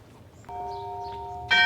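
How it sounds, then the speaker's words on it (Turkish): Bell of a church over a thousand years old in Lindau on Lake Constance: one clear ringing stroke sustains and hums, then a second louder strike lands near the end. "Bin senelik, bin seneden daha fazla bir maziye sahip olan kilisenin çanı çalmaya başladı."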